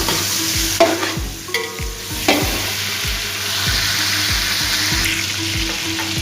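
Chicken browning in a pot for yakhni palao, a loud continuous sizzle with a spoon scraping and stirring in a regular rhythm, close up and without talk.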